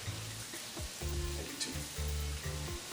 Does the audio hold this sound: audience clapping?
no